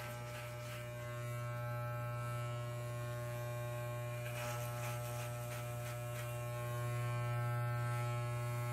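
Electric clippers shave hair for an undercut, giving a steady close-up buzz with a strong low hum that holds almost unchanged for the whole stretch, with no talking.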